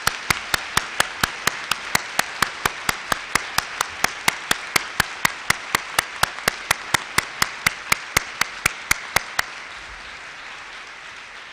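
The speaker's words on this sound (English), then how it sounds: "Would you please join me in a round of applause?" A round of applause at an education awards breakfast, dozens of sharp claps in a fast, fairly even rhythm that run for about nine seconds before stopping abruptly into a quiet room.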